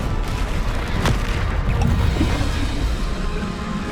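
Spell explosion from the Bombarda charm in Hogwarts Legacy, a loud deep boom over dense, rumbling game combat noise that continues throughout, with no voices.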